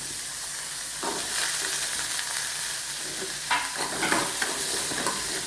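Shallots and garlic sauté in hot oil in a pan for vatha kuzhambu, giving a steady close sizzle broken by scraping stirs from a spoon, with no talking.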